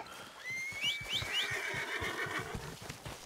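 A horse in the video game Red Dead Redemption 2 whinnies with a rising, wavering neigh over steady clip-clop hoofbeats, fairly close and clear, with no talking.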